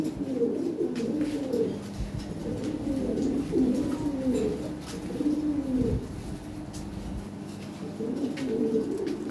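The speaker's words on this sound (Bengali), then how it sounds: "দেখার মতো কোয়ালিটি কবুতর" Lahore pigeons coo steadily in a low, throaty chorus, several birds overlapping with soft rolling calls throughout, close by and fairly loud, at a pigeon sale.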